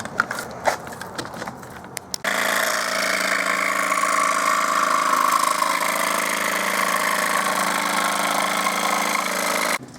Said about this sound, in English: we're going to go ahead and set the case down and actually cut it out with the jigsaw